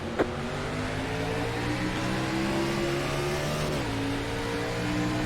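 Race cars accelerate at a green-flag restart at Texas in an iRacing Xfinity simulation, engines revving steadily and loudly with rising, shifting tones and no talk.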